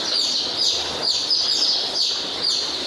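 A group of desi country chicks chirps constantly around a dish of jaggery water in a brooder, with high, overlapping peeps repeating in quick rhythm, loud and close, and no talking.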